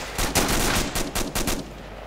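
Rapid bursts of gunfire from the tactical military shooter Arma 3, several sharp shots in uneven clusters, close and loud, trailing off into a quieter tail.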